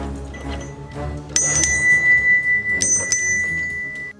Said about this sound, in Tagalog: nagising si Emerson sa tunog ng doorbell